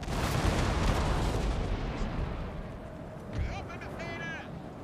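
Musket volleys and cannon fire from a Napoleonic battle in the video game Napoleon: Total War, a dense roar of overlapping booms and crackling shots that fades toward the end, with faint chirping effects and talk layered over it.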